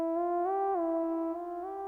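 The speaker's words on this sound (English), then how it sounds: "The effects that I added to this was a fruity delay 2, and I added a fruity reverb to turning up the size," A synth lead melody treated with Fruity Delay 2 and a large-sized Fruity Reverb, sustained and harmonically rich, with gliding pitch changes and a steady, washy tail, with no voices.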